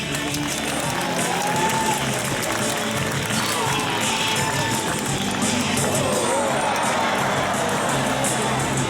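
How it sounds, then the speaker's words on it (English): Spectators at a SeaWorld San Diego killer whale show clap and cheer for the orca Corky, a sustained crowd roar of applause echoing around the open stadium pool, with faint voices and a tonal sound mixed underneath. "Everybody give a big round of applause for Corky"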